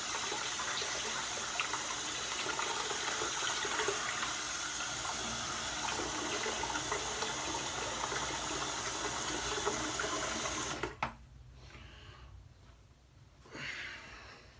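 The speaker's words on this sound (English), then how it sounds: "I'm gonna go ahead and rinse off here." A bathroom tap runs in a steady loud gush for about eleven seconds while someone rinses off between wet-shave passes, then shuts off, leaving quiet splashes and handling sounds.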